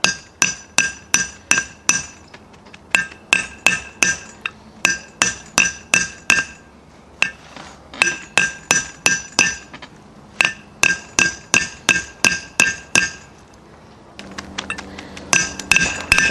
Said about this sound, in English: It'll go from a kind of a hollow sound to a light tink tink sound when it's bottomed out.